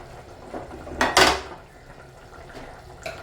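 Chopped onion drops into hot coconut oil in a pan, giving a sudden loud burst of hissing sizzle with a light clatter, which then settles into a quieter, softer crackle.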